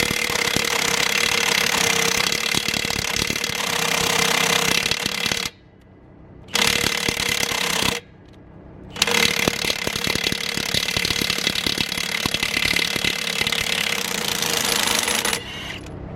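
Milwaukee M18 High Torque cordless impact wrench hammering loose lug nuts on a Ford L8000 truck, a loud continuous rattling burst broken by two brief pauses before resuming at full force, no talking.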